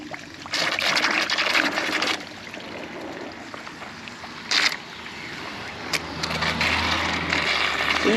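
Water hosed through a motorcycle part, heard as hissing, splashing bursts of spray that start and stop several times over a low background rumble.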